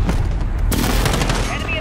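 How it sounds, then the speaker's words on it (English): Explosions from a precision airstrike and steady gunfire in the Call of Duty Modern Warfare video game, loud booming blasts and sustained rattling shots that sharpen after a brief moment, mixed with game voices. "Friendly precision airstrike inbound."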